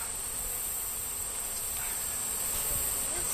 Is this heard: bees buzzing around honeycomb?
yes